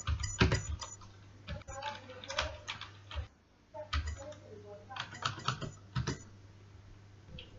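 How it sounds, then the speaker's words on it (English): Keys on a computer keyboard are tapped in short quick bursts with brief pauses, soft and close, as a password is entered. "So I'll just type in my password really quick."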